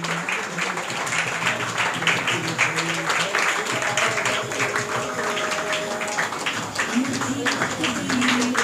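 Steady clapping rolls on through a school hall as an audience applauds a young prize winner at a speech competition event, continuous and moderately loud with voices mixed in underneath.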